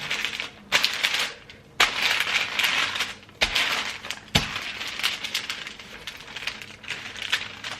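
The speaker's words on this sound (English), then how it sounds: "you get your rolling pin, and we need to roll it out" A rolling pin rolls out doner kebab meat under a sheet on a kitchen counter, making repeated crackling, crinkling strokes with short pauses and sharp knocks between passes, close and moderately loud.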